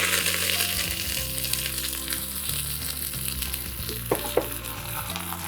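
Crushed garlic and fresh curry leaves hit hot oil for a tempering, crackling in a loud, close, continuous sizzle with a few scraping stirs and no voices.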